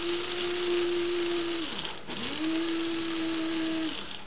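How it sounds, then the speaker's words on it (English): Electric coffee grinder powdering raw pumpkin seeds, a high steady motor whine that dips briefly as it stops, then spins back up and runs on before cutting out. "how I powder up my raw pumpkin seeds. And this thing is really good. This coffee grinder, man, it works really well."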